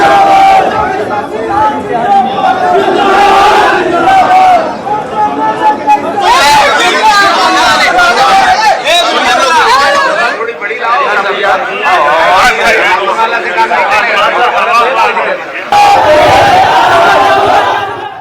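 Large crowd gathered at a candidate's nomination filing in Bihar, a loud continuous hubbub of many voices with shouting and cheering rising and falling over about eighteen seconds, close and dense throughout.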